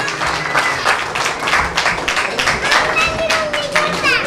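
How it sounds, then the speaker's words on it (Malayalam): An event audience applauds a woman being welcomed on stage, dense clapping from a crowd that keeps going steadily with some voices mixed in. "കയ്യടികൾ ശബ്നത്തിന് വേണ്ടി."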